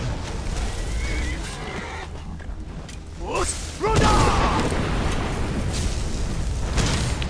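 A horse whinnies with a rising, wavering call amid loud, busy Skyrim game noise and rumbling effects, with a voice talking over it.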